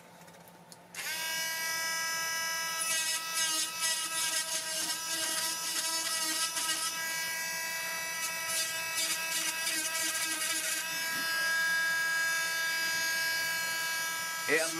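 A micro motor power carver fitted with small dental burrs whines steadily and up close, its high motor tone broken by bursts of rattling grinding as it cuts into wood. A voice talks quietly underneath.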